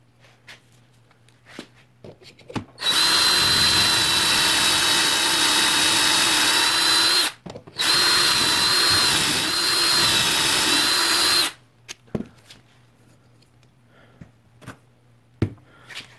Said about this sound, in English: I'll show you how I drill some of these holes now.